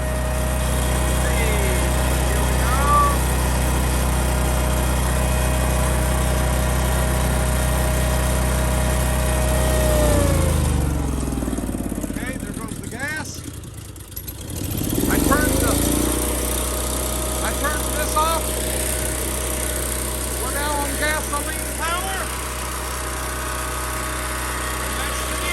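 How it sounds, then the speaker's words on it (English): A Winco HPS12000HEB tri-fuel generator runs on gasoline, a steady close engine drone that dips and cuts out briefly midway before resuming, with voices heard over it. "I'm going to turn on the gasoline and get it flowing, and we'll run it gas"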